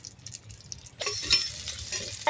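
Fennel seeds, curry leaves and green chillies dropped into hot oil, quiet at first, then a brighter crackling sizzle with a few stirring scrapes, close and fairly soft.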